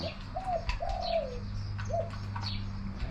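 Spotted dove calling with a few soft, low coos in a short sequence, close and clear over a steady low hum.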